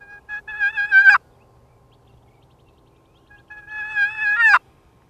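A wild turkey gobbler sounds off twice, each call a rising, rattling burst about a second long, separated by a few seconds of near silence.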